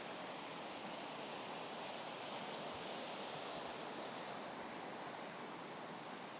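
Steady splashing water from a small fountain at a hotel entrance in Singapore, a constant rushing hiss with no pauses, moderately quiet and heard alone.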